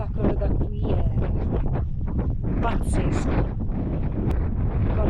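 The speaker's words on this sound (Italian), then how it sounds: "il vento sta tirando e il vento a 3500 metri è decisamente fresco" Strong wind gusting across the microphone at 3500 metres on Mount Teide, a constant loud roar and buffeting throughout with a person speaking over it.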